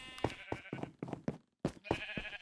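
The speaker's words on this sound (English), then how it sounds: "I made a giant sheep farm." Several sheep bleating on a large Minecraft sheep farm, a run of short separate bleats with a brief gap near the middle, close and clear with no talking.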